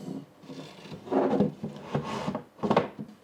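A wooden shelf for a handmade shoe rack slides and rubs into position, giving a few scraping, knocking wood sounds in bursts close by, with no talking.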